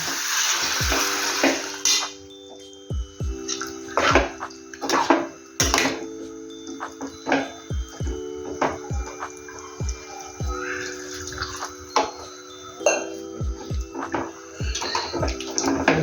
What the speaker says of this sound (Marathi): आता आता आपण त्यात गरम पाणी टाकूया.